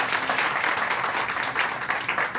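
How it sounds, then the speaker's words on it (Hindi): A meeting audience at a business-plan gathering breaks into brief, dense applause to welcome first-time guests, a short burst of many hands clapping close together. "आप सब हमारे मेहमान हैं, एक बार जबरदस्त तालियों से मिलकर स्वागत करेंगे"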